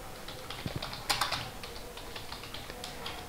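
Fingers typing on a computer keyboard while entering packing material details into Tally Prime accounting software: quiet, irregular clicks with a short denser burst of keystrokes midway, close and alone.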